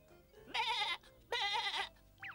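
Two bleats from cartoon goats, each about half a second long and loud and wavering, with a short high squeak at the end, in an animated children's show.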